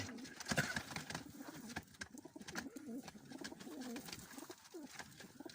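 Pigeons cooing softly nearby, low rolling coos repeating over faint background noise.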